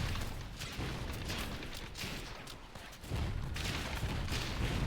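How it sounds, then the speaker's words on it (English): Rapid, dense explosions and combat blasts in the action game Torchlight 3, a continuous barrage of booms and crackling impacts at moderate volume. "Oh, those explosions hurt."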